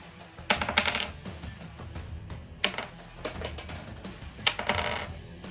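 Flying V electric guitar with a bone nut strummed unplugged, bright metallic string attacks in several bursts with short decays, close and moderately quiet, no talking.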